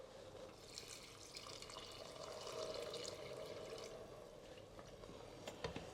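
Faint water runs steadily into a rice cooker, a soft continuous pouring with a few small clicks near the end.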